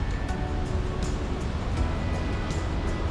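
A waterfall rushes in an Alaskan temperate rainforest along the Winner Creek Trail, a steady, close, full roar of falling water with no pauses and no voices.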